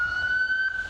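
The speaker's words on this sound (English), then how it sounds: "ambulances come by" An ambulance siren passes by, a steady loud high wail holding through the whole moment with faint traffic rumble beneath.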